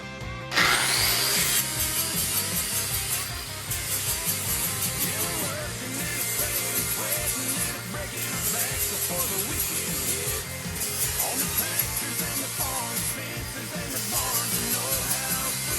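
An angle grinder works on metal during a reinforcement plate build for a Jeep Comanche crew cab. The loud, steady high whine runs almost without a break for the whole stretch, with slight dips in pitch and strength.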